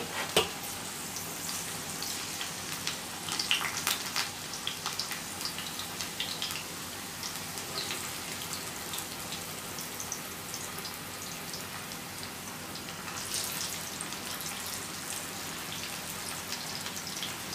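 Potato and onion pakoda dough balls fry in hot oil, a steady dense crackle and sizzle that holds throughout, close and even with no talking.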